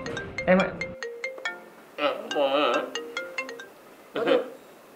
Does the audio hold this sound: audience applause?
no